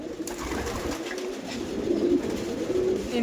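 Racer pigeons at a loft coo steadily in overlapping low, throaty calls, several birds going at once with no pauses and no voices.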